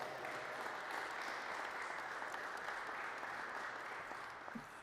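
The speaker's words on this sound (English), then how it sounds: "So, everybody, a round of applause" An audience at a Louisville press conference breaks into sustained applause, a dense even patter of clapping that runs steadily throughout and tapers slightly at the close.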